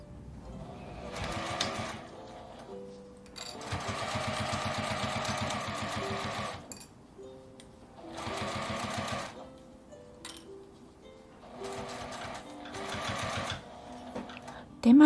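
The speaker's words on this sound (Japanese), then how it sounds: "こちらも端から端まで5ミリくらいの縫い代で縫います。" A sewing machine stitches a quilted fabric pouch with a 5 mm seam allowance edge to edge, running in several steady whirring bursts separated by short pauses, close and clear.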